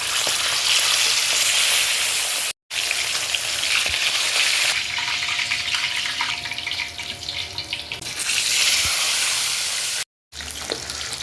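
Tilapia frying in hot cooking oil, a loud, continuous close crackle and sizzle that eases slightly midway, with two brief cuts to silence.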